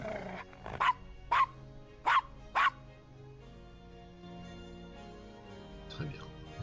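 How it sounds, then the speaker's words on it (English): A dog in the Gabriel Knight: Sins of the Fathers 20th Anniversary Edition adventure game barks four times in sharp, evenly spaced yaps over a soft background score. "Nice doggy. Good Castro."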